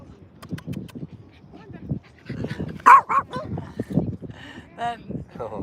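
A corgi gives a few short, high yips and barks, near and moderately loud, in bursts between stretches of a person speaking.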